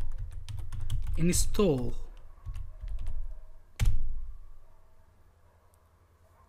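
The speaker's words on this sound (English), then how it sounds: "Then type the command composer" A command is typed on a computer keyboard in a quick burst of close key clicks, followed by a single sharper keystroke, with someone speaking briefly over the typing.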